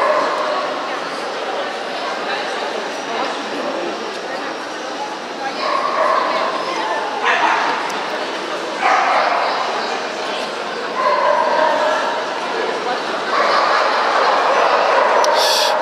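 Dogs bark and yip at the 2018 Euro Dog Show near a Curly Coated Retriever ring. The short barks and whimpers come from a distance, scattered under steady crowd noise and someone talking.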